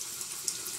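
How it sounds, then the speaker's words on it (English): A sink tap runs water in a steady, soft hiss nearby during hair styling at home, with no talk over it. "you hear the water tap beside me"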